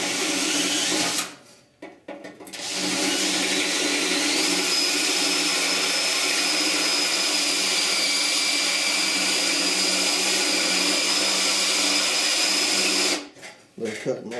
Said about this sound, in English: This bit's not wore out yet, but I have cut a lot of spot welds with it.